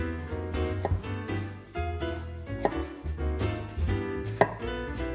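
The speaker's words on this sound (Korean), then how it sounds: "한입 크기로 썰어주세요." A knife cuts peeled kabocha squash into bite-sized pieces on a board. Several firm chops land in an uneven rhythm over soft background music, and no one speaks.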